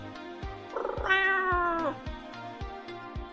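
A kitten in the Choices mobile story game gives one drawn-out, rising meow over a steady looping game music track, fairly close and clear, with no talking.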